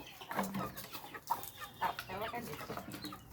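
Chickens clucking and calling close by while being fed onion, with short repeated clucks and a few sharper squawks scattered over the moment, plus faint background noise.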